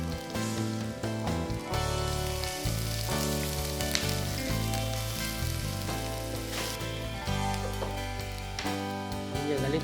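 Chopped onion and green chillies fry in a pan for methi chicken, giving a steady, continuous sizzle that sits under prominent background music throughout.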